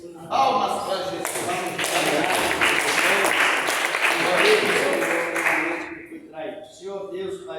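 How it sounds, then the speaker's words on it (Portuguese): A church congregation breaks into loud, sustained applause during a service. It builds quickly, holds dense for several seconds with a voice mixed in, then thins out toward the end. "Palmas para Jesus."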